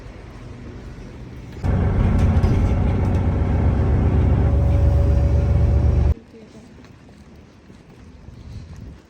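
A tram ride in Poznań, Poland: a loud, steady rumble of the moving car with wind and road noise for several seconds, then a sudden drop to a quieter hum as it slows or the doors close.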